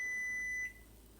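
A Frigidaire FGMV175QFA microwave gives a single sustained electronic beep signalling that cooking is done, steady and fairly close for about half a second, then stopping into quiet room tone.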